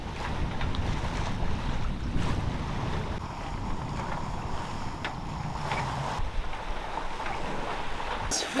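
A sailboat under a lot of sail in a freshening breeze: steady wind rush and microphone buffeting over water sloshing against the hull, continuous and near, with no voices.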